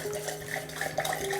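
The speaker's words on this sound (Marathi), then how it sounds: "चला आपण यामध्ये थंडगार पाणी ॲड करायचं." Cold water pours steadily into raw mango juice preparation, a continuous close splashing stream with no talk.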